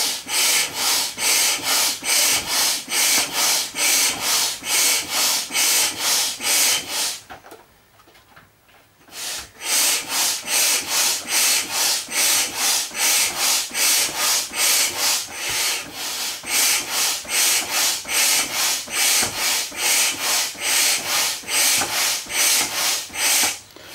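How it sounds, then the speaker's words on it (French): A pump inflates a giant inflatable flamingo with rapid, regular rasping strokes in a steady rhythm, pausing briefly near the middle before resuming at the same even pace, close and fairly loud. "du coup je pompe maintenant"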